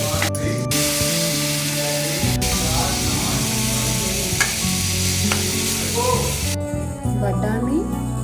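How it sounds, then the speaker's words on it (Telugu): Onions with ginger-garlic paste fry in oil for a pea curry, giving a loud, continuous sizzle with stirring scrapes and bursts of hissing spray, alongside a layer of background music. "ఫస్ట్ ఆయిల్ వేసి ఆనియన్ బాగా గోల్డ్ కలర్ వచ్చేంత వరకు వేసుకొని దీంట్లో కొంచెం అల్లం వెల్లిపాయ పేస్ట్ వేయాలి."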